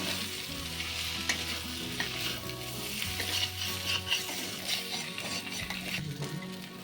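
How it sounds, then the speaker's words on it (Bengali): Poppy seed paste stirred with raw mustard oil in a wok for a cauliflower and potato posto, a steady sizzle of frying with repeated scraping and clinking of the spatula against the pan throughout. "কাঁচা সর্ষের তেল একটু দিয়ে দিচ্ছি, 2 চামচ মতন দিয়ে দেবো। মিক্স করে দিচ্ছি।"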